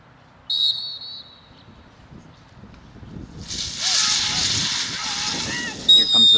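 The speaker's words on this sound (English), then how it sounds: "Second whistle." A single clear, high whistle blast sounds early during a PSA 3 protection trial with a dog, followed by a long, loud hissing rush and a few brief sharp tones.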